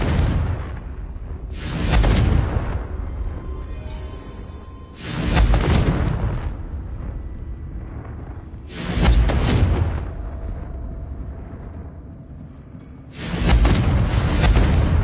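Bombarda and Confringo spell explosions in the video game Hogwarts Legacy sound as four deep, loud booms at spaced intervals, each followed by a rumbling decay, with no talking.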